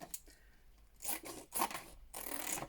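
Scissors cut laminating pouches in half up close, giving several short, quiet snips and rasping plastic slices at an uneven rhythm, with no voice.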